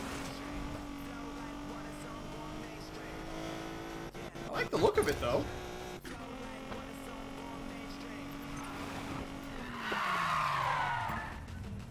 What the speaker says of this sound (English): The sound of this car is awful.